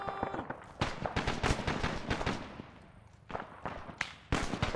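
Gunfire in the Arma 3 video game during a counterinsurgency firefight: rapid bursts and single loud shots in irregular clusters, some overlapping, with a brief pause before further volleys.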